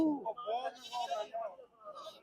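A heavy male goat bleats repeatedly in a series of wavering, nasal calls close by at a goat market, with a brief pause before a final shorter bleat.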